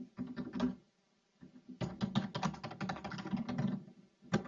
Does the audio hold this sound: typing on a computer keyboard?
yes